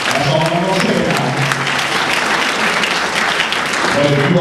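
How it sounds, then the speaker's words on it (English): An audience at a talk event with an author claps loudly and continuously, dense steady applause with voices mixed in. "Y'all want to clap loud on that."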